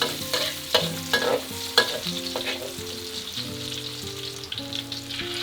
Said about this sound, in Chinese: 把红油炒出来